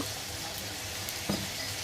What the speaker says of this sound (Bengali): এখন মাংসগুলো ভেজে নিব